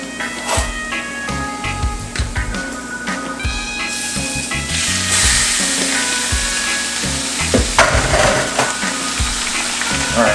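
Ground turkey frying in a seasoned pan, a steady loud sizzle with clattering scrapes and knocks from stirring and breaking up the meat, close up throughout.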